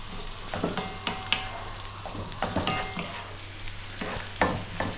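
Thinly cut carrots and onion fry in a pan over medium heat, crackling steadily up close while a spatula stirs and scrapes in quick irregular bursts.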